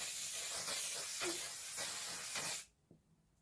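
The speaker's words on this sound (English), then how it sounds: "don't breathe in when you spray your face" A continuous aerosol spray hisses steadily at close range for about two and a half seconds, then cuts off abruptly into near silence.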